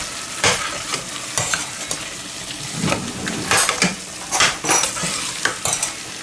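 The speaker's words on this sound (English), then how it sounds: "Use a chopstick to scrape it." A chopstick scrapes and stirs food around a sizzling frying pan, making close, irregular scraping strokes and light taps over a steady frying hiss.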